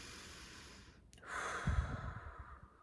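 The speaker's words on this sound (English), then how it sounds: "And just big deep breath" One deep breath drawn in and slowly let out close to the mic, soft and quiet in an otherwise still room.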